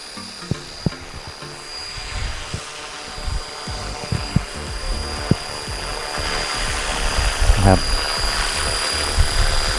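A DEVIL X360 radio-controlled helicopter flies in a continuous high-pitched rotor and motor whine, steady and moderately near for the whole stretch, with scattered clicks and light thumps underneath.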